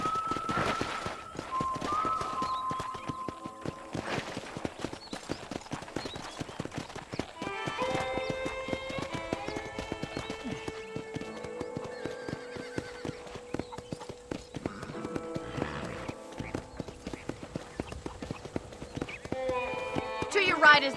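Horse hooves clip-clop in a steady, moderately paced rhythm in the Red Dead Redemption video game, with a whinny early on and people talking over the hoofbeats throughout.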